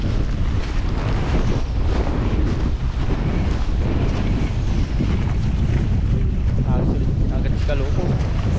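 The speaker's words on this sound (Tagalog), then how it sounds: "Gawa ng malakas ang hangin." Strong wind buffets the microphone on a seashore, a loud, steady roar with rough low rumble and surf-like wash throughout, no pauses.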